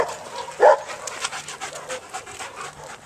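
Dog panting outdoors on a walk, quick rhythmic breaths close by with a brief louder whimper-like burst near the start, fairly faint over light background noise.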